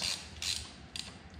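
A plug on a BMW R1200RT/LC final drive is hand-tightened with a 6 mm hex key, giving a few quiet, close ratcheting clicks and short metallic scrapes spread over a second and a half.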